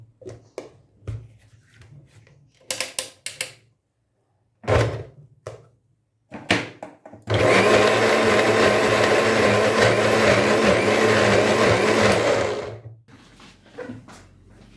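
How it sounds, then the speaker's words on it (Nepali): A kitchen grinder whirs loudly and steadily for about five seconds as it blends butter chicken gravy into a paste, preceded by scattered clinks and thumps of handling. "ग्रेभीलाई ग्राइन्डरमा हामी यसलाई पिस्नेछौँ र यसलाई पेस्ट बनाउन गइरहेका छौँ"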